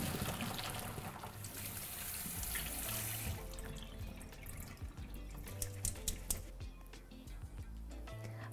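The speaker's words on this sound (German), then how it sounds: "Nach 3 Minuten kommt der Lauch durch ein Sieb und wird dann noch kalt abgespült." Blanched leek is tipped into a sieve and rinsed under a running cold-water tap, starting as a strong gush of water and then breaking into splashes, drips and trickles in a kitchen sink.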